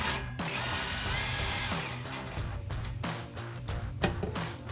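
A 15 mm wrench works a badly rusted exhaust clamp bolt on a Ford F-150, loud close mechanical grinding and rattling with a run of sharp ratcheting clicks toward the end.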